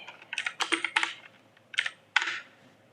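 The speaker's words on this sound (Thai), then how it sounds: "เราก็พิมพ์ชื่อไปเลย" Someone typing on a computer keyboard in short bursts of close, crisp key clicks, with a brief pause between the two groups of keystrokes.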